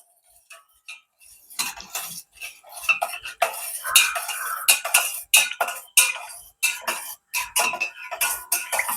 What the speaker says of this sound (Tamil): இதை வந்து நாங்கள் வடிவாக கலந்து விடுவோம்